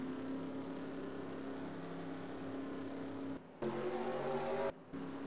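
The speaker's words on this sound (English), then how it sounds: "Drivers! Start your engines." Engines of a field of stock race cars in a NASCAR-style racing video game drone low and steady with a harmonic hum, cutting out briefly twice before resuming, quiet and continuous without distinct revving bursts.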